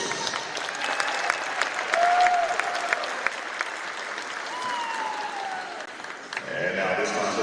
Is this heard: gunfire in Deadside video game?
no